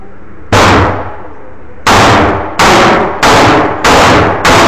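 Five loud, close pistol shots from a Glock and a 1911, both .45 caliber, fired at irregular intervals, each a sharp crack followed by a short decaying echo, with no talking.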